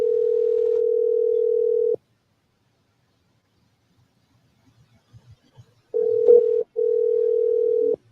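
Steady telephone dial tone drones for two seconds, falls silent with a few faint clicks, then returns in two more sustained stretches with a short break between them.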